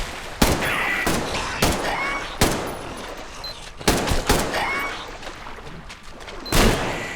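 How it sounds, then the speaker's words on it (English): Rifle shots in the video game Metro Exodus, sharp separate cracks fired every second or so with brief gaps between them, fairly close over a quiet background. "one headshot with the rifle will bring them down"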